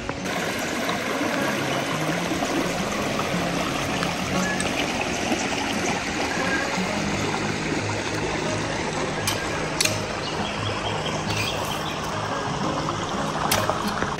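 A creek's water flowing steadily at a site where watermelons might be planted, with a continuous broad rushing and trickling over the whole stretch and a few brief splashy accents near the end.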